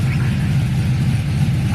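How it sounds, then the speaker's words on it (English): A 2000 Silverado pickup idles inside a garage with an electric cooling fan running, giving a steady, loud low rumble with a constant whir layered over it and no talking. "I'm sitting here in the garage idling"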